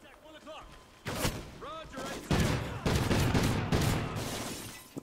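A shotgun firing in Call of Duty Ghosts, several loud, heavy blasts with shattering debris and battle noise, spaced across the clip, while a voice talks over part of it.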